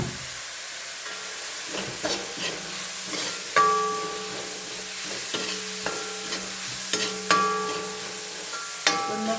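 Ginger, garlic and green chili fry in a pan with a steady close sizzle, while a utensil stirs and scrapes in intermittent clinks and knocks, and no voices.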